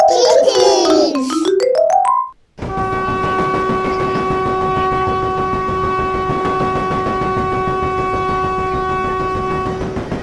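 A train horn blares in descending tones, then after a short pause a steady, sustained horn chord holds loudly for several seconds.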